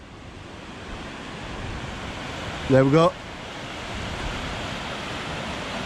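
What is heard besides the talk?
Washburn River rushing after reservoir overflow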